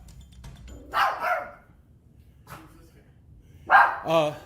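A dog barks in two short bursts of a couple of sharp woofs each, close and fairly loud, separated by a quiet pause, with some voices in the background.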